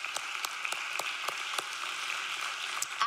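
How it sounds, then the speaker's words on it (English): Light, thin applause from a church congregation honoring single parents, a few distinct hand claps standing out over a soft, steady patter that stays fairly faint throughout. "So another round of applause for those people."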